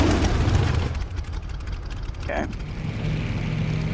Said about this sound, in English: you can probably hear the motorcycle rumbling